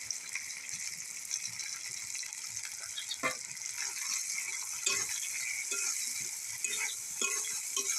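Chopped tomato and spices fry in oil in a pan, a soft steady sizzle broken by scattered clicks and scrapes of stirring, close and moderately quiet, with no talking.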